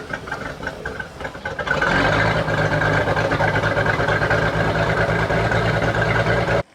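A Sea Ray boat engine running on old gas rumbles quietly at first, then revs up and runs steadily at a loud, even idle before cutting off abruptly at the end.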